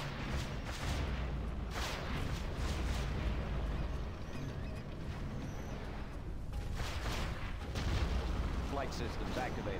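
Cruise missile strike in the C&C Generals strategy game: dense, continuous rumbling blasts and booming impacts that fill the clip, with a small quieter dip in the middle, under voiced unit chatter.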